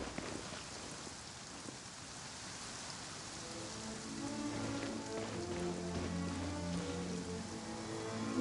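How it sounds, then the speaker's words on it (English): Rainfall in the video game Genshin Impact, a soft continuous patter of rain with a musical score gradually rising underneath, fairly quiet and without speech. "Rain."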